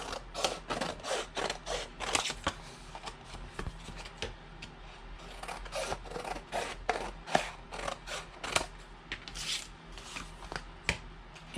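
Excess paper being trimmed away from the edges of a handmade skinny notepad, a close, steady run of scraping and rasping cuts in quick irregular strokes, with no talking.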